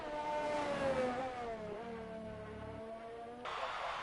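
High-revving McLaren F2 race car engine on the Bahrain circuit, a close, loud whine that dips through a downshift and climbs again, with other cars' engines mixed in behind it.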